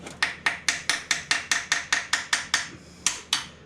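Fuel injectors on the throttle-body injection of a 1987 K5 Blazer being tapped with a tool, about a dozen crisp metallic raps in an even rhythm, loud and close, with a short pause before the last two.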